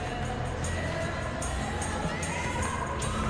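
A dense stadium crowd roars on match day for Manchester City against Arsenal in the football game PES 26, a steady wash of cheering with faint periodic swells.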